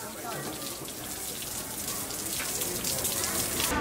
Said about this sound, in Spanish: Está lloviendo en el interior del aeropuerto,